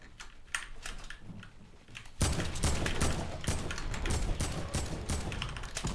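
Gunfire in the video game Fortnite: quick, clicky shots come in spaced bursts, then turn into dense, loud automatic fire that goes on without a break. No one speaks.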